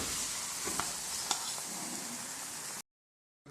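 Lachha saag paratha frying on a hot griddle gives a steady, close sizzle for nearly three seconds with a few small crackles and pops, then cuts to silence, with no voices.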